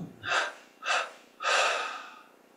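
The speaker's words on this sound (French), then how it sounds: "On expire en 3 fois." Three separate breathy exhalations during a meditation session, each one a soft, airy rush. The first two are short and the last is longer and fades gradually. The breaths are close and quiet, with no talk.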